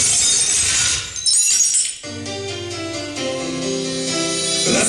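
Glass shatters on a comedy stage at a KVN final: a loud, bright crash at the start, then crunching fragments, followed by a brief pause and a sustained musical tone.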